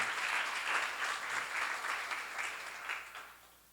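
Audience applause at a church seminar on Jeremiah, a steady wash of clapping from a crowd that fades out toward the end, with no talk over it.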